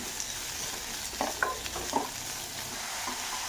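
Onion and garlic frying in a pan for a tomato and mint chutney, with a steady soft sizzle and a few scraping stirs of a spoon near the middle, no talking.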